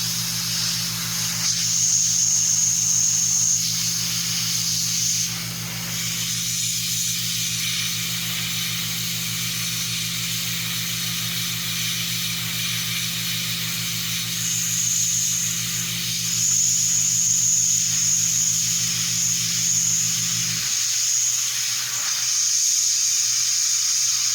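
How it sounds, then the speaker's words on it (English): An airbrush sprays paint in a thin, tight stream while shading around rocks on a quarter-scale Old Man He-Man figure, a continuous steady hiss over a low hum that cuts off near the end. "Not much is coming on my airbrush."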